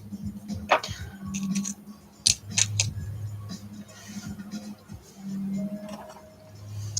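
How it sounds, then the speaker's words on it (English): Scissors trim crochet tassels on handmade medieval cat figures, giving a few quick, quiet snips and clicks over a low steady hum, with no talking. "We'll give these tassels a bit of a trim."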